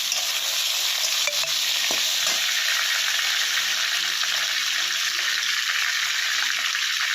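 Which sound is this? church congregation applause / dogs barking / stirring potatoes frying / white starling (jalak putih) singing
stirring potatoes frying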